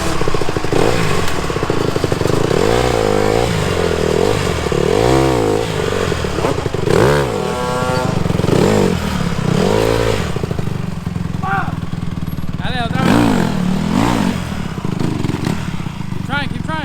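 A dirt bike engine revs repeatedly in rising and falling bursts as a kid tries circle wheelies, loud and close, with people talking and calling out between the revs.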